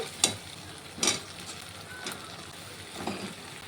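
Eggplant and potato pieces go into hot oil left from frying fish, giving a soft, steady sizzle with a few brief louder bursts as the vegetables hit the pan, and no voices.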